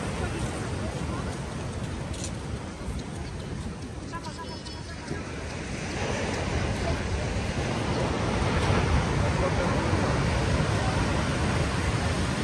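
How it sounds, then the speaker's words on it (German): Ocean surf rolls onto a Gran Canaria shore, a broad continuous wash that swells louder in the second half, with faint voices and wind in the background. "Wir warten auf die nächste Welle."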